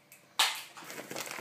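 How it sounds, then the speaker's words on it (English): Plastic 250 ml bottle being cut: a short crunchy crackling burst, close and fairly quiet, followed by softer scraping crackles, no talking. "So you cut the bottle around in the middle, if you have a 250 milliliter bottle."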